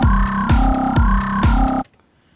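Wobble bass synth patch made in Ableton Live, a loud buzzing low tone pulsing in a steady rhythmic wobble for nearly two seconds before cutting off abruptly to near silence.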